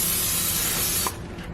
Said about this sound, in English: I'm gonna spray a decent amount of olive oil on these.